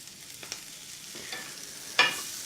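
Chorizo, vegetables and minced garlic sautéing in a pan over medium-high heat, a steady soft sizzle broken by a few scrapes of stirring and a sharper hiss near the end.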